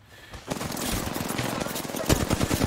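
Rapid automatic gunfire in the Apex Legends video game, a dense sustained stream of shots mixed with other game noise and a voice, with a louder flurry near the end.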